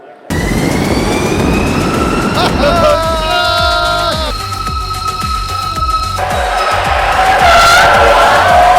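A car doing donuts in the Faroe Islands, loud sustained tire squeal and engine roar close up, pitch sliding as the wheels spin, continuing for the whole stretch.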